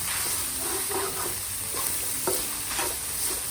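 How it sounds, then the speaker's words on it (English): Young galangal tossed into pork sizzling in a pan for southern Thai dry-fried curry, a steady loud frying hiss with a few scraping stirs and clinks of a utensil against the pan, no voices. "when the pork is well cooked, we can add the young galangal into the pan"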